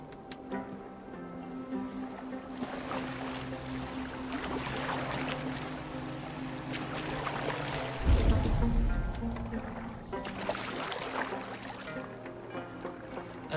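A boat glides across open water in Assassin's Creed Valhalla, with a steady wash of water and creaking timber, plus a louder splashing surge midway, the whole scene running continuously with no one talking.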